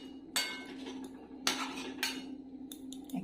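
A cauliflower and potato curry is stirred in a pot, giving a few sharp metallic clinks of a spoon against the pot at uneven intervals over a faint, steady background, quiet and close.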